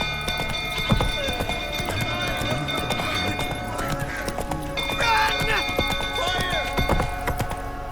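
Rhythmic hoofbeats of a horse galloping steadily across ground in The Witcher 3, with a whinny partway through and ambient game sounds layered underneath.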